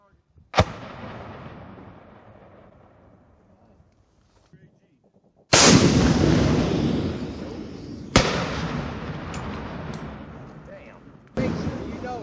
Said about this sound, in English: Back blast area clear! Firing, firing, firing!